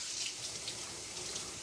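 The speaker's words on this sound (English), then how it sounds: "I gotta wash my hands again." Water runs steadily from a kitchen tap while hands are washed, a soft continuous splashing rush at low volume with no voices.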